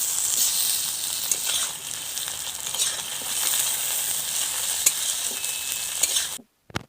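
Tomatoes tipped into a pan of onions fried until reddish, a steady loud sizzle and hiss with faint stirring scrapes running for several seconds, then cutting out.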